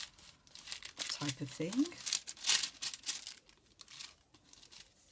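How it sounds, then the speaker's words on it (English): A large glassine bag holding assorted paper ephemera, old and faux book pages and a flashcard, crinkles and rustles in bursts near the microphone, mixed with a person talking. "There's a larger glassine bag with various bits of ephemera in."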